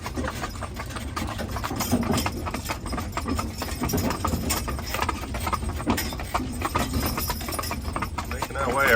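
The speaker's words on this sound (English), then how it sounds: "The girls are working pretty good together, although I knew Georgie was going to want to trot" Haflinger horses pull a wagon on a winter ride, their hooves clip-clopping in a steady walking rhythm close by, with wheel and harness rumble beneath and a person talking throughout.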